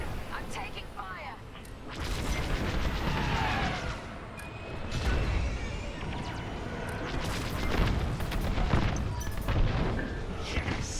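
A starfighter in Star Wars Squadrons takes blaster fire: dense rumbling impacts and booming bursts across the clip, layered with engine noise and game effects, with voices talking over parts of it.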